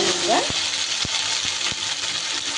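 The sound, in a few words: boiled taro frying in rice bran oil in a wok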